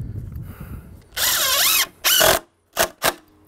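A power drill drives screws into a deck board, several short whirring bursts with pitch rising and falling as each screw seats, after a stretch of quiet handling noise.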